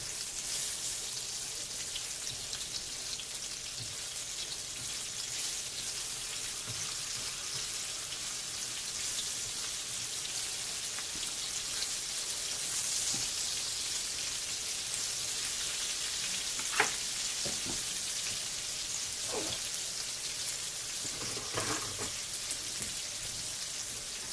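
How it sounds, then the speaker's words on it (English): Onion browning in a frying pan of grease for gravy, a steady, even sizzle and crackle running throughout, close and moderately loud, with a few faint knocks near the end and no talk. "I'm going to put my onion down in here. I'm going to let that brown."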